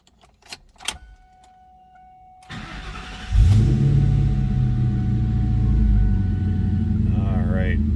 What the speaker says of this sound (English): Let's go ahead and fire this up, check exact miles, let you hear it run.